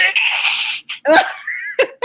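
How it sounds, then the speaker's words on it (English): A theatrical sneeze with a drawn-out inhale and a sharp burst, followed by brief vocal sounds, close and loud. "That was a sneeze."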